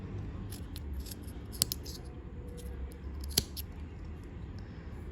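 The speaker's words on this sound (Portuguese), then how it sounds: "Vou vir com a tesoura agora e cortar aqui a parte de baixo" Scissors snipping crochet yarn at the base of a small crocheted bag: a few faint, quick clicks over steady background noise, with two slightly sharper snips standing out.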